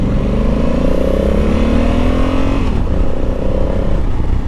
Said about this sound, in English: even hearing this thing like just wind down in the RPMs, it sounds upset that it's slowing down